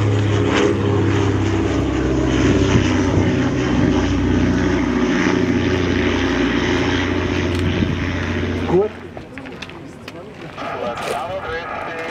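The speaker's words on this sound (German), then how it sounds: "Der Motor hat 9 Zylinder, das ist ein Sternmotor" A vintage aircraft with a nine-cylinder radial engine runs loudly nearby with a deep, throbbing propeller drone that cuts off sharply near the end, leaving quieter background sounds.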